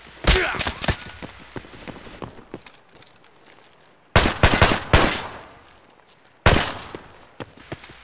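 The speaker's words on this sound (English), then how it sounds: "Someone's shooting silenced." Suppressed gunfire in the video game Escape from Tarkov, several bursts of muffled sharp shots in quick clusters, loud and close, with pauses between volleys.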